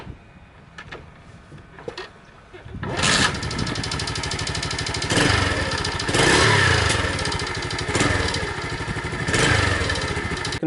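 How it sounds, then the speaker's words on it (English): A Honda CT110 motorcycle starts after a few faint clicks, then its small engine runs loud and close with steady buzzing, rising and falling in several revs as it pulls away. "Taking the bike out for a spin."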